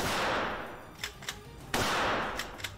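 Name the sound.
rifle gunshots at a gun shop shooting range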